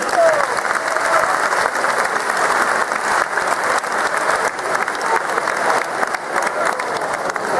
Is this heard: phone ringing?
no